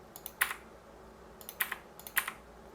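Computer keyboard keys pressed in a few quick clusters, light close clicks separated by short pauses over a quiet background, with no talking.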